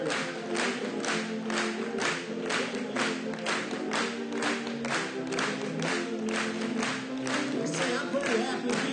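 A church congregation applauding, with dense, steady, rhythmic clapping that holds throughout, loud and close, with voices faintly mixed in.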